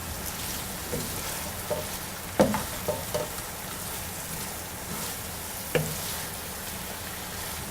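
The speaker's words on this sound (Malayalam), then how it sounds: "ഇനി ഇതിലോട്ട് നമ്മൾ ഷാലോ ഫ്രൈ ചെയ്ത് വെച്ചിരിക്കുന്ന കാടയിട്ട് മിക്സ് ചെയ്യുക." Shallow-fried quail is stirred into masala in a pan, producing a steady soft sizzle with occasional scraping and clinking of the spoon against the pan.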